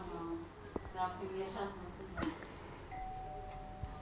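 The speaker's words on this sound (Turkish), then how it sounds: "zil çaldı kapıyı açayım mı?" A doorbell chimes indoors, a ding-dong tone ringing out amid quiet household noise and a voice speaking nearby.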